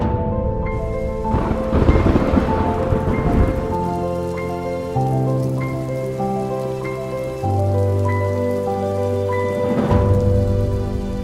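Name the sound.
heavy rain in the UAE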